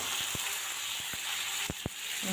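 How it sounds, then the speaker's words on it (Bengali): Pieces of sweet gourd go into a hot pan with fish and lentils, giving a steady sizzling hiss broken by a few soft thuds and taps as they land and settle, with no one talking. "এখন হচ্ছে মিষ্টি লাউগুলো দিয়ে দেবো।"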